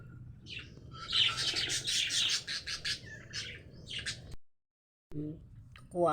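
Several lovebirds chirp and tweet busily at close range, a dense run of bright, rapid calls that cuts off abruptly, then a brief voice follows.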